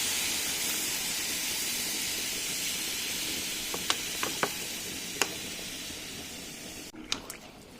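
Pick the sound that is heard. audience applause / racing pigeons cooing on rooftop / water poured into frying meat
water poured into frying meat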